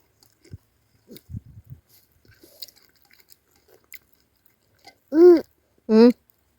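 Someone eats rice with gundruk soup, with soft wet chewing and smacking clicks scattered over the first few seconds. Two short voiced sounds follow near the end.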